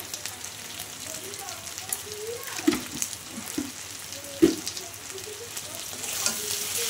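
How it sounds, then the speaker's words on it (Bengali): Spice paste with turmeric and a little sugar sizzles gently in a pan for a hilsa head and yam curry, with soft frying crackle and a couple of sharp stirring clinks nearby. "দিয়ে আমি মশলাটা একটু ভালো করে কষিয়ে তারপরে জল দেবো"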